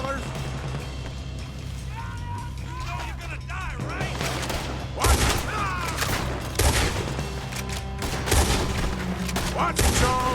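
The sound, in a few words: gunfire in a shootout, from the video game Red Dead Redemption 2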